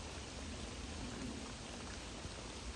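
Rain falling steadily on a private lake near Hampshire during a fishing session: an even, faint hiss of drops with no breaks or voices.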